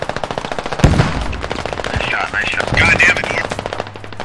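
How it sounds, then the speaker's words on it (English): Gunfire in the military shooter Squad, automatic bursts rattling close by across the clip, mixed with an agitated shout and radio-style team chatter. "I was shooting between two palm trees"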